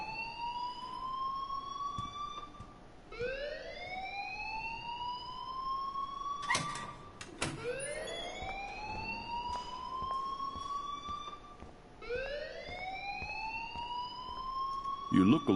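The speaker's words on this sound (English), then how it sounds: "please turn off that alarm since that's your job." A rising, wailing siren-like alarm from the video game Life is Strange sweeps upward again and again, steady and fairly loud, with a few sharp clattering noises in between.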